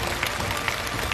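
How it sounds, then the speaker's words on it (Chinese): Audience applause at a televised challenge show, a steady dense wash of clapping filling the whole moment at moderate level with no voices on top. "我觉得我们应该为孩子的勇气鼓鼓掌"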